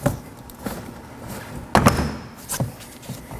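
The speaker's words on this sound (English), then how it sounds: "reach to the bottom of the door panel and give it a nice hard pull, undoing the clips" Rear door panel of a 2013-2019 Nissan Sentra pulled off its clips, giving a few sharp plastic snaps and thuds, one louder pop near the middle, close up in a quiet garage.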